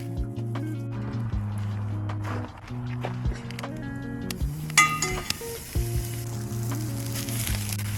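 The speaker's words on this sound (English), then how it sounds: "We're just heating up the briskets from yesterday and the pork ribs." Leftover brisket and pork ribs reheating over a campfire at a Yellowstone National Park camp sizzle steadily for about eight seconds. Clinks and footsteps come and go, and a sustained tonal hum runs underneath.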